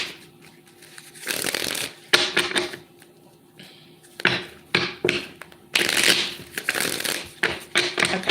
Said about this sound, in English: 2 more shuffles and then we begin.